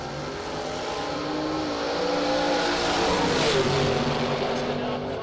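At a drag strip, a Bel Air and a 1970 Camaro roar in a continuous loud engine blast that swells and slightly rises in pitch as they pull away, with no break.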